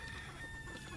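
Chickens and hens on a Philippine farm cluck in a brief, faint burst of scattered calls against steady background noise.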